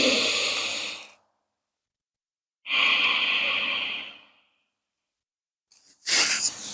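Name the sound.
breathing during yoga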